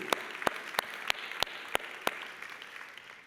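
Applause from a church congregation, with a handful of sharp, evenly spaced claps standing out above a steady wash of clapping at moderate distance.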